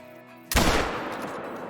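A single sharp rifle shot at a blacktail buck while hunting in Call of the Wild, loud and close, with a booming tail that rings out over a quiet ambient background.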